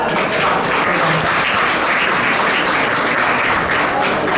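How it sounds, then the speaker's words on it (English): Audience applause fills an awards gala dinner hall at an Africa future summit, a dense steady clapping from a large crowd that holds at full strength throughout with no voices rising above it. "Please give them a round of applause."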